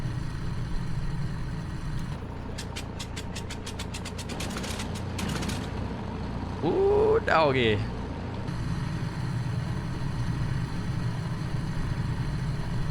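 In a flight simulator, the center engine of a Ford Tri-Motor 5-AT cranks with a rapid ratcheting starter clatter, then catches and settles into a low idle rumble; someone speaks briefly over it.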